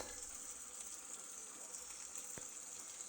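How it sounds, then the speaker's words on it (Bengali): Tap water running steadily into a home kitchen sink, a continuous quiet gush with faint clatter near the end. "দিব্যি জল আসছে"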